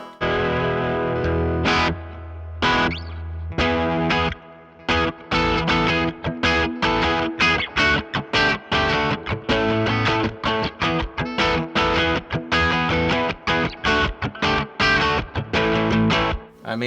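An electric guitar played through two distortion and effects pedals into an amp with a little reverb: loud, thick chugging chords and stabs in a choppy rhythm, with brief gaps between bursts.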